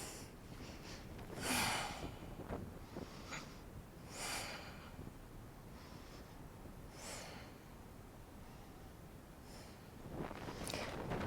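Slow, deep breaths taken while holding yoga wheel pose, a few soft rushing inhales and exhales spaced several seconds apart, quiet and close in a still room.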